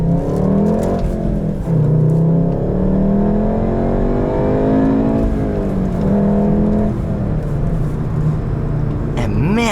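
A 2017 Volkswagen Golf R with a manual gearbox and an APR intake pulls hard from inside the cabin, engine note climbing through the gears in loud, continuous sweeps with brief dips at shifts.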